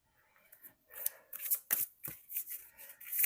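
A tarot deck being shuffled by hand, several close, quick riffling bursts of card flutter following a quiet start.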